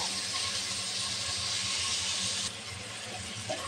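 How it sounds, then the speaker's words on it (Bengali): Fish pieces frying in a pan for a prawn and bottle gourd curry, a steady loud sizzling hiss that drops slightly partway through, with no talking. "মাছটা এক পিস ভাজা হয়ে গেছে, এখন উল্টে দেব।"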